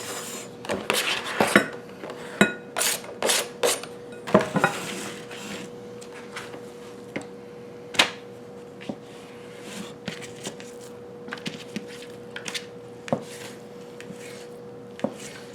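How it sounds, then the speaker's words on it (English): A knife slices thin round steak on a board in a home kitchen, giving a steady run of sharp taps and scrapes, busy and close early on and then sparser, isolated knocks. "I'm cutting it up really thin so it sears fast."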